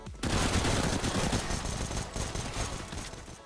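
A CZ-75 pistol fires in CS:GO, a rapid close burst of many shots blurring into sustained, loud automatic-style fire that then gradually thins out.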